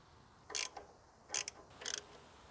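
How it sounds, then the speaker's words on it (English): A ratchet with a 13mm socket clicks in three short bursts as it tightens the nuts on the winch posts, each burst a quick, close run of sharp metallic ticks with quiet pauses between. "Go ahead and get a 13mm socket and tighten down all three posts."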